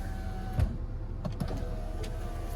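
A Land Rover Discovery's electric window motor whirs steadily as the glass lowers all the way, with a few faint clicks and knocks along the way.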